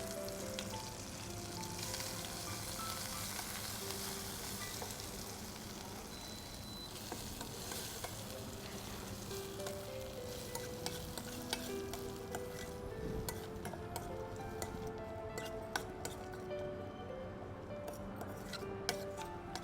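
Garlic and kuppaimeni leaves sauté in ghee, giving a soft, steady sizzle with faint stirring scrapes and occasional light clinks throughout, quiet and close.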